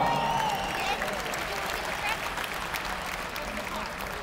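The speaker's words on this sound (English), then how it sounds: "Give them a round of applause" Crowd applause at a boxing event rolls on steadily, a broad wash of clapping with some faint tonal sounds early on, continuing without a clear break.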